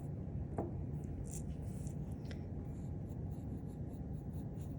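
A pencil line is rubbed out with an eraser on paper, a soft, steady scratchy rubbing heard close up and quiet, with no talk.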